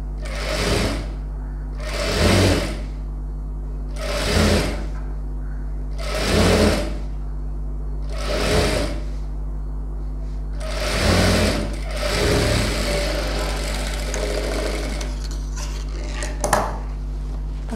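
Sewing machine stitching a designer blouse with lining, running in repeated bursts about every two seconds over a steady low motor hum, with clicks and fabric handling between runs; no talking.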